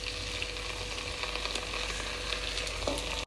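Chicken fried rice stirred and fried in a pan with soy and chilli sauces, a steady close sizzle and crackle running throughout with faint scraping of the stirring, no talk.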